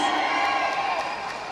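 An audience at a Krishnam Pranaya Sakhi pre-release event gives a short burst of loud, dense applause mixed with cheering, a steady wash of crowd noise.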